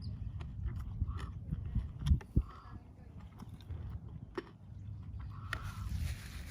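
Someone bites into and chews a crunchy cheese pizza crust, quiet crackling crunches with a couple of sharper bites, against faint room noise.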